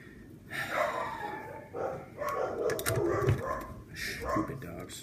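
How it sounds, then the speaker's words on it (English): Dogs barking and snorting nearby during a scooter build in a garage-like setting, a series of short rough barks and huffs across several seconds, fairly loud, with background noise. "Stupid dogs. They bark at everything."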